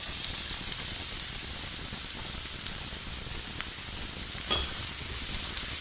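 Onion added to hot olive oil in a frying pan, giving an even, continuous sizzle with a few faint pops and clicks, close and steady throughout.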